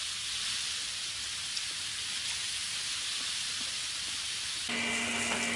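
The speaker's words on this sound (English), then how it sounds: "That pan's already been on the heat for a little sec, so that's already getting hot." Olive oil heats in a hot pan with a steady, bright sizzling hiss, loud and close and unbroken, with a faint higher whine entering near the end.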